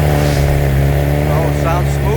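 A Ducati V4S motorcycle with a modified exhaust runs close by, giving a loud, smooth, steady engine drone with a deep rumbling tone and no breaks.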